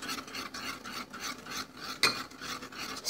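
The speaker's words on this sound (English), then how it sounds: "I'm just going to keep stirring" A utensil stirs pancake batter in a bowl with a steady rhythmic scraping and rubbing, close up and continuous, with one sharper clink partway through and no voices.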